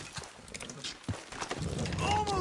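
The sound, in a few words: horses pulling, hooves clip-clopping, from video game Red Dead Redemption 2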